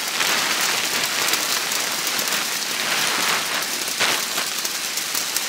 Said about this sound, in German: Es tropft hier die ganze Zeit hier drauf.